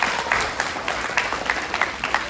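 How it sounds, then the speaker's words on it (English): Audience applause for a student during a lively science show for kids, a steady wash of clapping with sharper individual claps popping out, no voices. "let's give him a round of applause anyway"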